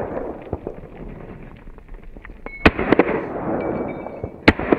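Gunshots ring out during footstep-timing shooting practice: several loud, sharp reports, some in quick pairs, over a low rumble of background noise.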